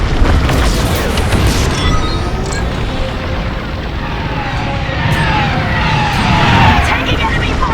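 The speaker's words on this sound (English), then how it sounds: "Taking enemy fire!" Enemy fire strikes a starfighter in the game Star Wars: Squadrons, a dense, loud barrage of booming impacts and rumbling noise that runs the whole time, with a voice speaking over it.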